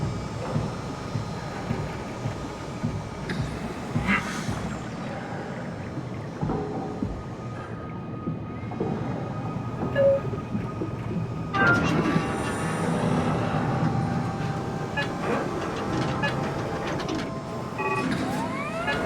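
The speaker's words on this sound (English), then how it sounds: "Not sure I trust the shuttle train anymore." A shuttle train in the video game SOMA runs with a continuous rumbling, rattling roll that swells louder in the second half, metallic screeches and clanks layered over it, with no talk.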